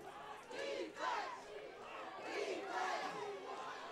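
A crowd at a bantam football championship final between the NG Giants and Cumberland roars and cheers in swelling waves, loud and sustained, with shouts rising and falling.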